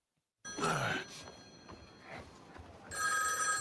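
A telephone rings in a TV drama scene, a bright electronic ring heard in two bursts with a sigh-like vocal sound and background noise between them.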